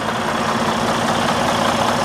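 A Detroit DD15 diesel truck engine idles steadily with no misfire, giving a loud, continuous, even rumble close by with no voices.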